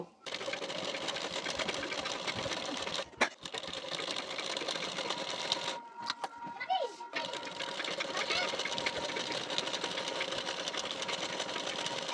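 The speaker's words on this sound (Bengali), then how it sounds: "বেল্টের পাটের কানা বরাবর করে দুটি চাপ সেলাই দিয়ে নেব" A sewing machine runs steadily while putting two rows of stitching along the edge of a belt piece for a boat-neck blouse, its whirring motor continuous and close, broken by a couple of short pauses.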